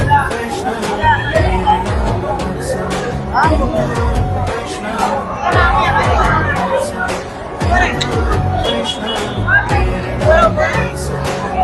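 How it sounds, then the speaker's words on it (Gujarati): A large crowd at a Hindu Vaishnav festival in Navlakhi, Vadodara, fills the air with a dense, continuous babble of many voices mixed with devotional singing, loud and close throughout. "શનિવાર હોવાથી બહુ બધી ભીડ છે આજે"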